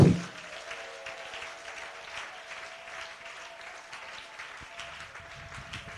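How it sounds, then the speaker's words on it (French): A church congregation applauds, a faint, steady patter of clapping that continues for several seconds after a brief louder onset, with a sustained musical tone underneath. "Acclamons Jésus"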